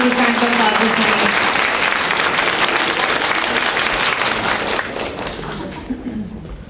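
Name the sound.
applause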